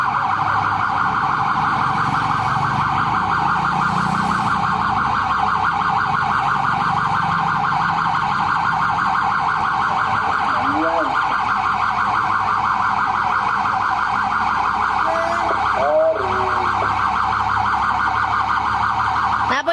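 Ambulance sirens trail a rescue march in Tagoloan, sounding as a loud, sustained wailing tone with a few rising and falling sweeps over crowd and street noise.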